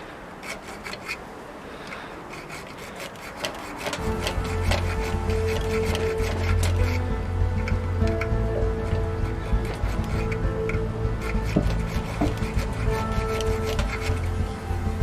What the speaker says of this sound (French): j'ai une petite lime pour finir l'organe de visée